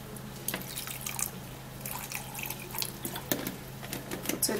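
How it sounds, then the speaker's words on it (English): Water trickles and drips into a blender jar before blending a two-ingredient drink, a faint, uneven splashing with scattered drips close by. "Put a little bit of water."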